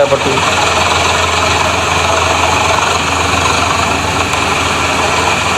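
A Massey Ferguson tractor hitched to an 18-foot trolley runs with a loud, steady, low engine drone and vibration throughout, close by, with a voice speaking over it.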